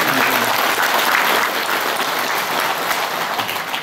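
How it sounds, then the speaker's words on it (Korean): A crowd at a formal ceremony applauds steadily and loudly, a dense wash of clapping that holds evenly throughout. "큰 박수 부탁드립니다."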